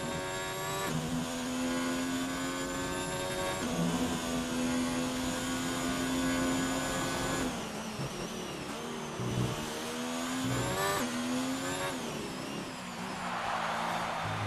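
Race cars in an online racing game at the Mexico Grand Prix, engines holding a steady high whine with rising and falling gear changes, continuous and close, with no talk over them.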